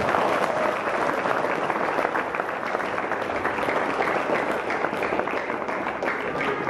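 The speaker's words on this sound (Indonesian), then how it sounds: "Tepuk tangan untuk kita" An audience bursts into continuous applause, a dense wash of many hands clapping at a steady, full level for several seconds with faint crowd noise underneath.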